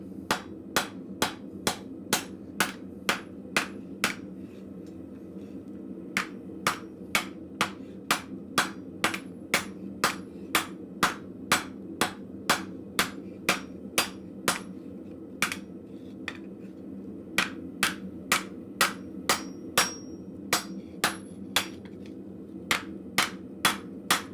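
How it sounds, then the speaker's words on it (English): Steady hammer blows on a flat steel bar being flattened in a blacksmith shop, dozens of sharp, evenly spaced ringing strikes with short pauses between runs, loud and close over a low workshop hum. "the first thing I'm going to do with the flat bar is I'm going to flatten it"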